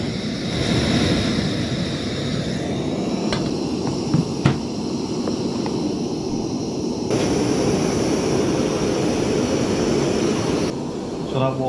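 A Terra Hiker portable camping stove burns under a standard camping pan of water, giving a steady, loud roaring hiss throughout, with a few small clicks and a shift in tone partway.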